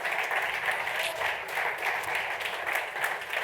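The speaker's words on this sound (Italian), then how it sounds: "a cui vi chiedo un applauso" Applause from a forum audience in Modena, a dense, steady patter of many hands clapping that holds at an even level for the whole stretch.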